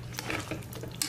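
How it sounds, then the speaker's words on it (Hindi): A spoon stirs potato and chickpea curry in a pan, giving a soft run of scraping and light clinking taps, quiet and close, with no talk. "मिक्स करें इसको अच्छे से"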